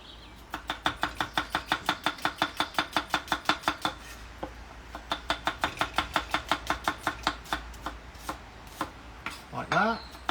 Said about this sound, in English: And then we're going to chop this nice and finely.